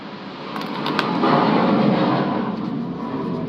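A United States Air Force jet passes overhead with a loud, broad roar that swells and lingers over a few seconds, a dense rumbling wash with no speech.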